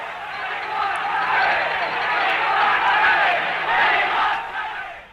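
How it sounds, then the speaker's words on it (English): A large rugby crowd at a cancelled match chants in unison, refusing to leave, a loud sustained roar of many voices swelling and surging steadily throughout. "Crowd refusing to go, chanting"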